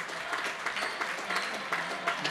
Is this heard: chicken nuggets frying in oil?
no